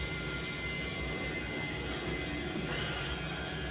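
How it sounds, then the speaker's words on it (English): Airbus A320 jet engine in a flight simulator game, a steady, continuous roar and whine that fills the whole stretch at moderate level with no speech. "No, the engine's stopping."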